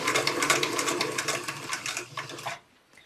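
Sewing machine stitching a plain dart in fabric, running in a steady continuous whir at close range for about two and a half seconds before stopping abruptly.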